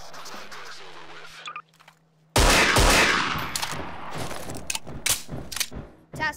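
Bursts of game gunfire, a quiet stretch, then loud sustained automatic fire and repeated shots in a military shooter, near and dense.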